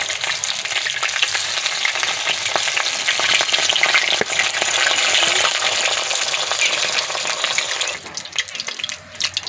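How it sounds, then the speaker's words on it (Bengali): Batter-coated pieces frying a few at a time in a wok of hot oil for an iftar snack, giving a loud, dense, continuous crackling sizzle up close that softens slightly near the end. "কড়াইতে অল্প অল্প করে দিয়ে ভেজে নিতে হবে"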